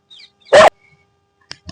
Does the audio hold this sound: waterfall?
no